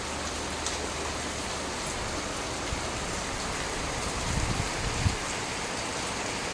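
Steady, dense hiss of heavy rain pouring down, constant throughout with a few slightly louder splashes near the end.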